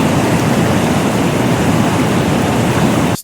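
A loud, continuous rushing roar of falling water, dense and unchanging throughout, cutting off abruptly at the end.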